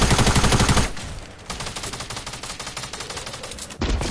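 A tactical SMG in a video game fires in rapid automatic bursts, loud and close, with one sustained stream and a second burst cutting in at the end.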